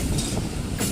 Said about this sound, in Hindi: अवाम एक्सप्रेस इस वक्त सरगोदा जंक्शन पे पहुंच रही है।